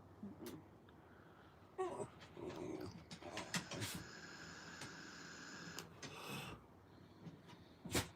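An indoor dog whimpers, snorts and grumbles in short irregular bursts while waiting to be fed, close and fairly quiet, mixed with a high electronic whine and light household clatter.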